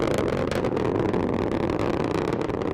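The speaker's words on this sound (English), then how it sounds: "Strap-on boosters look good in the full thrust mode." Strap-on boosters at full thrust lift the Parker Solar Probe rocket, a dense, unbroken roar that stays loud and even throughout, with no voices.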